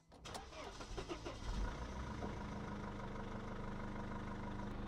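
A car engine is started, cranking briefly before catching and settling into a steady idle close by, with a voice audible over the start.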